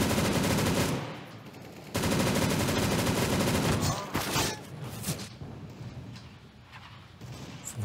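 Rapid automatic gunfire in a video game, played on an ATI Radeon HD 2600 XT graphics card, rattles loud and close in sustained bursts with brief pauses, followed by scattered shots and game effects.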